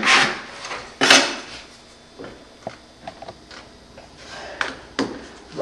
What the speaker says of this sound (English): So we're going to do a little trimming on it. This scraper.